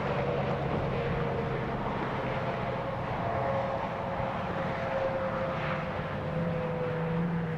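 A rocket climbs away after launch, heard as a steady, distant, rumbling roar with a faint droning tone that holds evenly throughout without breaks.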